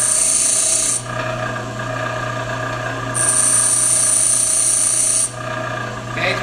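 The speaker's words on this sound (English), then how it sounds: "We're actually going to grind some, cool it down, grind some more." A lathe bit blank ground on a bench grinding wheel, a loud steady rasping whine in three bursts with brief dips in between as the blank is pulled away, over a constant motor hum.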